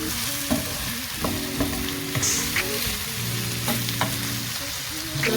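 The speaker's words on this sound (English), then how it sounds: "So I'm just gonna keep on stirring until our garlic is cooked." Garlic fries in a pan with a steady, close sizzle while a utensil stirs it, scraping and tapping now and then. No one speaks.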